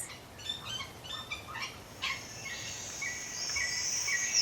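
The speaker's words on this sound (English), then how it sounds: "I hear a symphony of birds." Birds sing outdoors on a path after rain, rapid chirps at first followed by a sustained high whistling song, moderately close over a faint background hiss.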